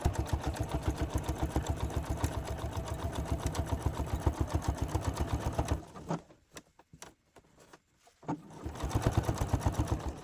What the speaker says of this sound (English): I will be sewing my pocket piece on at 5/8 of an inch seam allowance between the dots